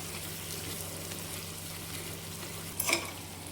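Stuffed brinjal masala curry frying in a pan: a soft, steady sizzle throughout, with one brief stirring scrape near the end and no talking.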